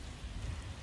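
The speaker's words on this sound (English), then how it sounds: "I actually kind of like the fact that it's raining." Steady rain falling outdoors along the Jeju Olle Trail on a Korean island, a soft, even hiss of drops without any talk.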